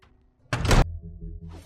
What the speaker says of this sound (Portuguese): Fechem a porta.